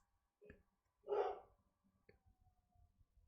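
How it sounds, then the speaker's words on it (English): A dog standing up on a couch at home gives one faint short bark, then a louder muffled bark, with a few quiet yips after, heard from another room in a quiet house. "So she's probably on the couch standing up barking."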